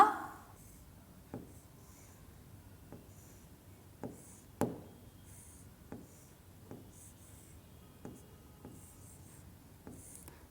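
A pen or pencil writes a Bangla word by hand on paper, giving faint scratchy strokes and light taps spaced every second or so, close and quiet, with no talk.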